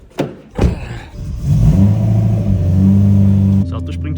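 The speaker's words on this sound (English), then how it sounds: "Das Auto springt schon mal an, wenigstens das." A BMW M3 engine cranks a couple of times, then catches and settles into a loud, steady idle close by.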